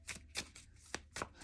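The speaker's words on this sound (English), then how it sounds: "I'm going to pull a few, or shuffle and pull a few tarot cards for you" Tarot cards being shuffled in quick bursts, several crisp riffling flicks spaced across a short stretch, close and fairly soft with no talking.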